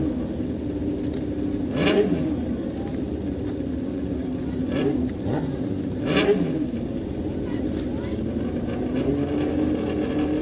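A dirt-track race car circles Coles County Speedway during night practice, its engine droning from a distance and swelling in passes, while someone talks over the steady background noise.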